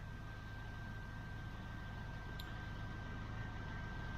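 A car engine idling during an alternator charging test, a steady, unbroken low drone with a faint high whine throughout, no variation in pace.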